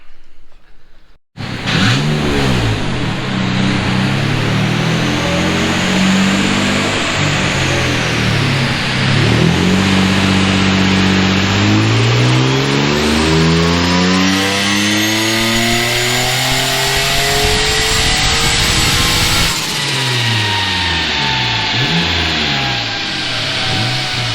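A turbocharged Nissan 350Z engine revs hard on dyno rollers, climbing through the gears in long rising pulls with brief drops between, loud and close.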